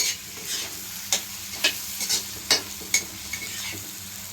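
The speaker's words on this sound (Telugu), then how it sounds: "లివర్ ఫ్రై అయితే రెడీ అవుతుంది చూడండి ఇలాగా ఆయిల్ అంతా కూడా బాగా పైకి వచ్చేసింది" Liver fries in oil in a pan while being stirred, a steady sizzle broken by roughly eight or nine sharp scraping stirs at uneven intervals, close and clear with no talking.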